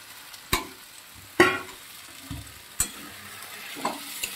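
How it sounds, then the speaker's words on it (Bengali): Ground green pea filling for kachori frying in a wok, a low steady sizzle punctuated by a few distinct spatula scrapes and clacks as it is stirred, nearby and without voices. "এইভাবে নেড়ে নেড়ে পুরটা বানিয়ে নিই"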